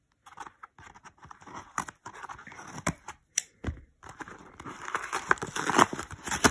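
Scissors snip and slice open a shipping package, producing irregular sharp clicks, cutting scrapes and crinkling of packaging, close and fairly faint.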